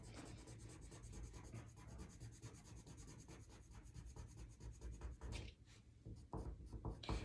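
Graphite pencil shading back and forth across paper to build up a dark tone for a drawing's toning guide, a steady close scratchy rubbing with rhythmic strokes that briefly pauses and then resumes.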